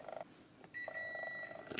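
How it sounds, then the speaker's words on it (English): A room air conditioner beeps twice, the first tone short and the second long and sustained, both fairly quiet and with no talk. "Why is it beeping twice?"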